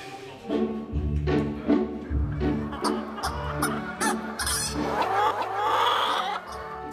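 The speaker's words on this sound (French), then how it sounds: "Hollandaises et poules à soie, elles ont la particularité d'avoir une touffe de poils sur la tête." Dutch and silkie hens, crested breeds, cluck steadily in a run of soft, rhythmic calls close by, rising into a louder, drawn-out squawk near the end.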